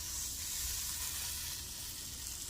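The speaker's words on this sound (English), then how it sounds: "Here it sizzle a little bit." Macaroni and cheese fries in a hot pan with a steady, close, even sizzle that holds throughout with no voices.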